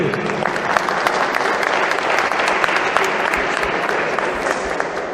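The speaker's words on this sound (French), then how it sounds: "Un applaudissement pour Riyad, s'il vous plaît." Dense, loud applause from a large crowd at an opening ceremony in Majunga, sustained evenly throughout without pause.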